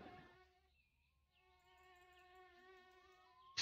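Bees buzz around a hive in the My Summer Car video game, a steady, fairly quiet droning hum that pauses briefly and then continues for several seconds before a sudden louder noise at the end.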